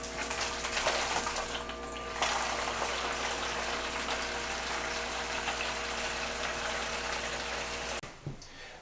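FN 901-A battery-operated fluid pump moving water, a constant whirring motor hum mixed with rushing, gushing flow, close and steady for several seconds before cutting off abruptly.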